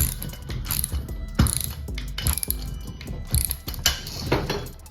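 Ratchet wrench tightening bolts on a motorcycle paddock stand, a series of close, rapid mechanical clicks in short bursts with brief pauses between strokes.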